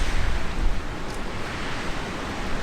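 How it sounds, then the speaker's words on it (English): Storm Ciara's wind blowing through trees outdoors, a steady, loud broadband roar that surges in gusts throughout, with no voices. "This is the wind whipping up around them trees."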